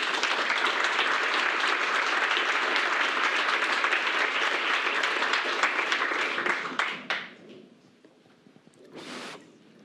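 An audience applauds after a technical presentation on SQL data quality with Python, steady dense clapping for about seven seconds that thins out and fades, followed by a brief last burst of clapping.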